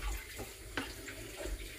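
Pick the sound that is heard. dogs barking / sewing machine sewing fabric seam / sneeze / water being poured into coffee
water being poured into coffee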